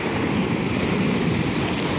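Large tsunami-driven waves breaking on North Beach at Port Townsend: a continuous, broad roar of surf and rushing water with wind buffeting the microphone, steady and loud, no voices.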